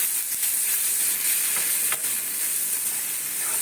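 A moong filling fries in ghee with a continuous, even, close sizzle and hiss, plus faint occasional stirring scrapes.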